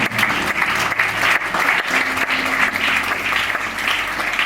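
A church congregation applauds loudly and steadily during a French-language sermon, a dense, continuous wash of clapping from many hands filling the whole stretch.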